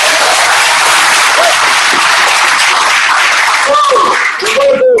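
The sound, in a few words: audience clapping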